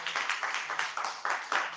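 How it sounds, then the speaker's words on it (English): Audience applause at a hackathon finals session, a steady burst of clapping from a crowd heard at moderate distance, rhythmic patter lasting under two seconds with no talking over it. "Let's give a round of applause."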